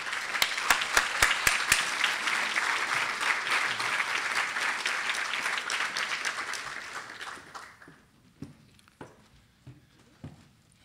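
Audience applause welcoming a guest speaker to the stage at a university public policy school welcome session, steady full clapping for about seven seconds before fading to a few scattered claps.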